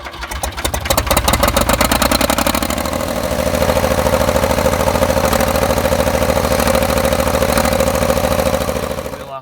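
A backhoe's diesel engine runs loud and steady throughout, with a dense low rumble and rapid firing pulses while it lifts a tractor so the wheels come off the ground.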